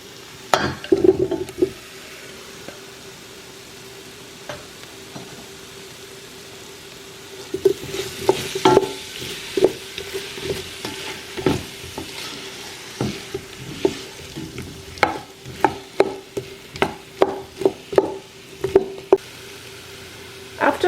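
Potatoes are tipped into a sizzling Kenyan beef stew pot and stirred. A quiet stretch is followed by a loud hiss of frying, broken by repeated sharp scrapes and clatters of a spoon against the pot, all close by.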